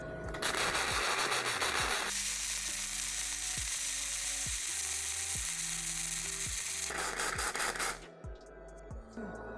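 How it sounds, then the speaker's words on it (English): A YESWELDER MIG 160 running a flux-core weld bead on 1/8 inch steel gives a steady, crackling, buzzing sizzle. It holds for about eight seconds, then breaks off into a few short bursts. "So now we can start running our bead."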